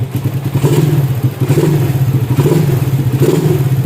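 A Yamaha motorcycle fitted with a quick-throttle kit idles close by, its engine putting out a steady, slightly lumpy low putter with a rhythmic pulse and light mechanical clatter, and no voices.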